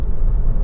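A Honda Civic 1.6 i-DTEC diesel engine idles with a steady, low, even rumble, close and continuous without any other sounds.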